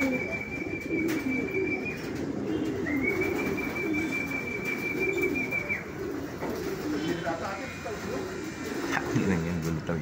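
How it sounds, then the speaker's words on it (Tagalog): Pigeons or doves outside a house coo repeatedly with soft low calls, heard under near, ongoing conversation in Tagalog and faint background noise. "labas kasi ibon ng kapitbahay."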